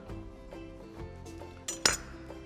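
A kitchen knife is picked up from among utensils during salad prep, with soft metallic clinks and a sharper double chink near the end, close and quiet, with no talking.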